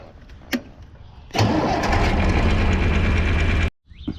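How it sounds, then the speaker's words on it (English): A tractor fitted with new batteries cranks and fires up quickly after a faint click, then runs at a loud, steady, close rumble for about two seconds before cutting off abruptly. "Got new batteries in the tractor. Starts just like it should."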